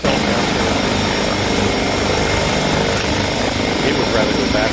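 Helicopter engine and rotor in the X-Plane 11 flight simulator, a loud continuous whine and rumble with steady blade chop, filling the whole stretch without pause.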